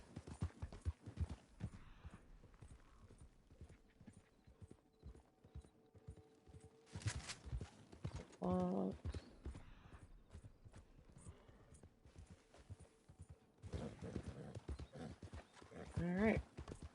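Horse hooves clip-clop steadily as a rider heads out across open country in a video game, with a couple of whinnies in the middle and near the end, under intermittent talk.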